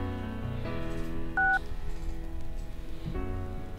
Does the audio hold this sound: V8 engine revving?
no